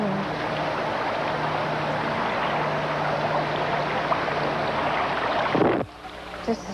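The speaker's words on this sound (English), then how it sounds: "Just the sound of water is magic." Water rushes and flows steadily outdoors, a broad continuous wash with a faint low hum, loud and unbroken until a sudden drop near the end, with no talk over it.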